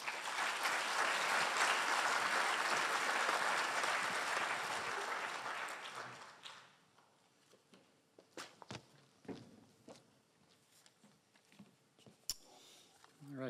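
A keynote audience at an ocean-science conference claps in a dense, steady burst that fades after about six seconds. A few scattered thumps and footsteps follow in the quiet.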